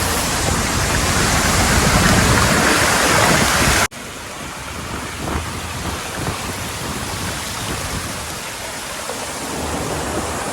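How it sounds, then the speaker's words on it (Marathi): A large waterfall pouring during the monsoon at Malshej Ghat, a loud, continuous roaring rush of water with a brief break partway through before the roar resumes. "वरून बघा कसा पाणी पडतोय बघा बेकार पाणी आहे बेकार बघा धबधबा किती मोठा आहे"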